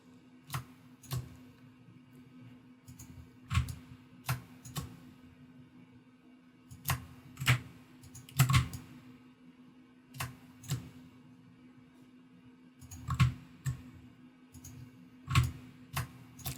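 Computer mouse clicking while building a VR game level, a steady series of sharp, close clicks at irregular intervals over a constant low electrical hum, with no talk.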